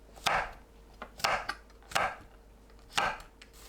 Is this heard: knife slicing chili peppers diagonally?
yes